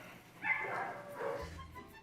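Dogs bark and yip at an animal control shelter, a short burst of barking at moderate distance, fairly faint in a quiet room.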